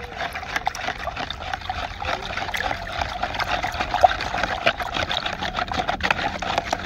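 A pesticide mixture is stirred in water for a rice-grain-filling spray, giving a steady close-up swishing and sloshing of liquid that runs continuously throughout.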